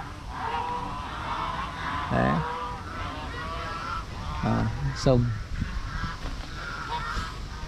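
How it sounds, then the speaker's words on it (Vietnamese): A flock of geese on a farm beside a river honks in several short bursts, loud and close, over steady outdoor background noise, with people speaking Vietnamese in between. "50 con ngỗng rồi."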